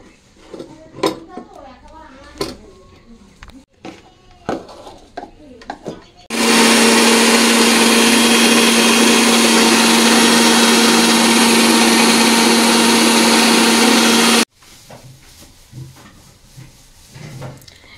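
An electric grinder whirs loudly and steadily for about eight seconds as it grinds washed spices into a paste for a fish curry, with clattering utensils and handling noises before and after.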